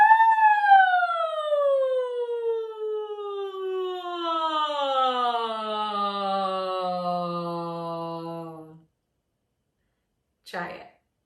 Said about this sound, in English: we will pitch slide, starting in our head voices on an oo vowel, and we're going to take it into our chest voices on an ah vowel